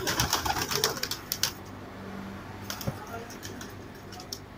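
Sialkoti pigeons coo softly amid scattered clicks and rustling, with a steady background hum, the calls faint and intermittent over a few seconds.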